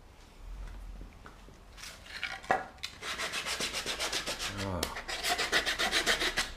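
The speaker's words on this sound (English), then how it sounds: "So Predo, could you please come and show everyone how you use the small sander to sand the small board?" A small sander works a small wooden board, first with scattered scrapes and then a steady, rhythmic rasping pulse in close, moderately loud strokes, with no talk.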